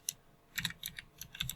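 A computer keyboard typed on in short clusters of crisp, close keystrokes with brief pauses, fairly quiet and alone, with no voices over it.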